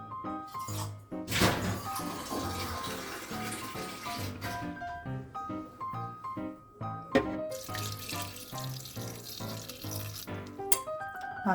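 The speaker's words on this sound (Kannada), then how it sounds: "ಇದಕ್ಕೆ ಎಷ್ಟು ಬೇಕಷ್ಟು ನೀರು ಹಾಕಬೇಕೀಗ." Water pours steadily into a lemon and mint drink mixed with black salt and honey, a continuous splashing running for several seconds beneath tonal background music.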